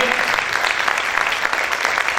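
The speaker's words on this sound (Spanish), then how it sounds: "¿Cuántos pueden aplaudir fuerte al Señor?" A church congregation claps loudly and steadily in praise, a dense, continuous wash of applause filling the room with no pause throughout.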